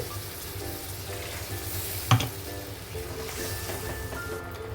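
Potatoes sizzle steadily in hot oil in a pan as watery mustard paste is poured in, with one sharp splashing burst midway through the continuous frying hiss.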